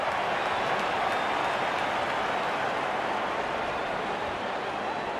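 A large crowd at a World Cup cricket match between India and New Zealand cheers and applauds, a loud, dense, unbroken roar of claps and voices filling the whole stadium.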